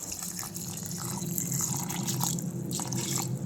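Thick coconut milk poured into a mixer jar, a steady liquid rush and splash running throughout, fairly loud and close.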